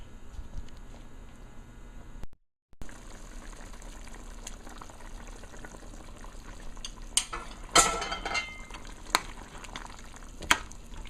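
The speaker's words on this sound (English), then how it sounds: "So I have to put a lid and let it boil." Duck curry with potato cooking in a lidded pot on the stove, a steady low bubbling simmer with occasional clinks and stirring noises, no one talking.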